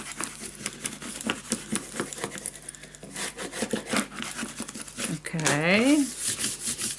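Paper for a scrapbook album is burnished down by hand with repeated close rubbing and crinkling strokes in an uneven rhythm. Near the end a voice briefly hums or sings over the rubbing.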